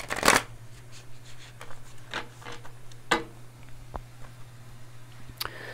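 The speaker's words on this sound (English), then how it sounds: "I'm going to pull one of these little oracle cards out here" Oracle cards shuffled by hand nearby, a few quick riffling bursts and soft taps against a low steady hum, with no talk.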